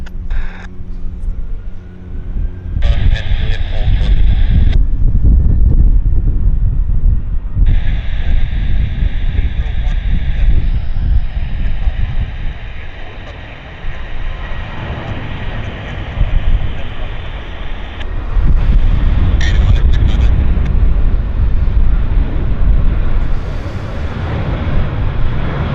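An Air North Boeing 737-800 takes off at Vancouver Airport, a loud, rising jet engine roar that swells and sustains, with a person talking over it at times.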